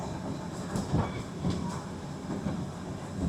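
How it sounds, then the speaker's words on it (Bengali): A Himalayan toy train rolls through dense jungle; steady rumbling carriage noise with soft clickety-clack and faint rattles, moderately loud and continuous, no voices. "দেখুন, ট্রেন পুরো ঘন জঙ্গলের ভিতর দিয়ে যাচ্ছে এখন।"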